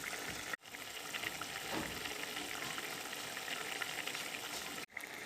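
Fish frying in a pan with salt, turmeric and chili powder, a steady close sizzle and bubbling of hot oil filling the whole stretch, with a couple of brief dropouts and no talk.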